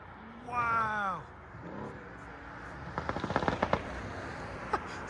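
A 4.0L bi-turbo V8 Mercedes C63s AMG with straight pipes fires off a rapid string of sharp exhaust pops and crackles, about a dozen quick bangs in a burst followed by one more, after a short vocal exclamation.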